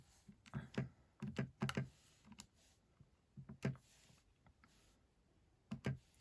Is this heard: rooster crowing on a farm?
no